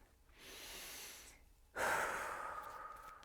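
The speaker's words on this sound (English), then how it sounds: "Let's take a deep breath." A slow, deep breath drawn in and then let out, close and clear, during a calm guided meditation before a tarot card reading, with no talking.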